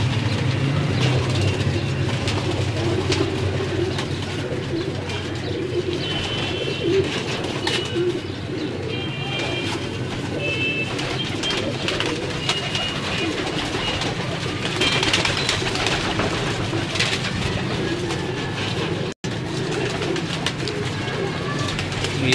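Sialkoti pigeons coo steadily on a rooftop, a dense, low, continuous murmur of many birds nearby, with outdoor background noise and occasional faint voices underneath.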